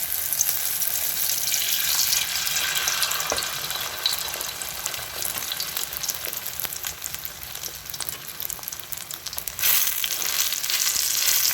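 Eggplant omelette frying in a little oil, a steady dense sizzle that stays loud and continuous, with a brief stir or scrape partway through and a slight swell near the end.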